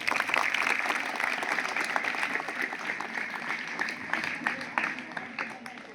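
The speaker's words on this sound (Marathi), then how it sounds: "टाळ्या देतो" A prize-distribution ceremony audience gives sustained, dense applause for a speaker, with loud continuous clapping from many hands that slowly tapers.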